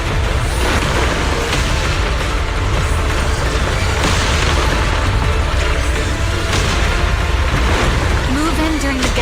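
Explosions in the Zenless Zone Zero video game boom and crackle in a dense, loud, unbroken wash of battle noise lasting the full stretch, with no clear pauses between blasts.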